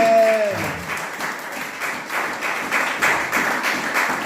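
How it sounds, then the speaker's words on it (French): A church congregation claps and cheers for the Lord, a lively fairly rhythmic round of applause following a short sung or spoken tone at the start. "Je veux qu'on acclame encore très fort pour le Seigneur."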